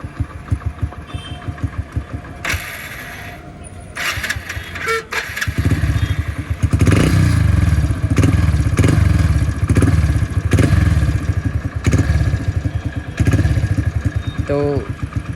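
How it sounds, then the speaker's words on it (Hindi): A Hero Splendor motorcycle engine, just repaired after a timing chain fix, idles and then revs repeatedly with a steady rhythmic thumping. The engine is loud and close, and there are a few clicks before the revving builds. "मैं थोड़ा सा आपको जो है रेस करके दिखाता हूँ गाड़ी को।"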